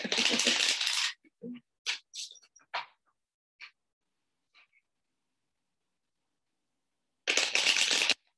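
Tarot cards being shuffled, with two loud riffling bursts at the start and end framing a series of soft taps and card clicks in between, close with no talk.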